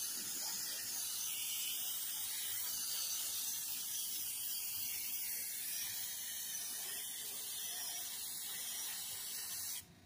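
An airbrush spraying paint onto a life-size xenomorph sculpture gives a steady, fairly quiet hiss that runs unbroken for about ten seconds, then cuts off at the end.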